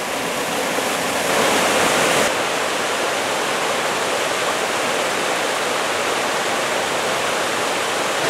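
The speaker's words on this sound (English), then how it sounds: "Another little waterfall on every corner." A waterfall at Cataract Falls near Fairfax, California rushes close by as a loud, continuous roar of falling water, with a brief swell partway through.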